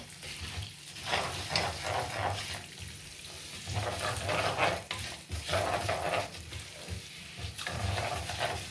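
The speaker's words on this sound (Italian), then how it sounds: "E andiamo a cuocerlo, sempre mescolando." Rice for risotto stirred in a pan as it toasts and cooks, with scraping, soft sizzling and shuffling in uneven sweeps that swell and fade close by, without speech.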